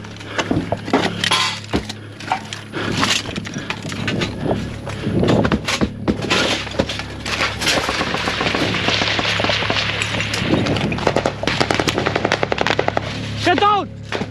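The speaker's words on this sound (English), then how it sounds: "a lot of IDF and machine gun fire started opening up" Rapid bursts of machine gun fire rattle repeatedly, loud and close, with cracks and bangs layered together and voices shouting between volleys.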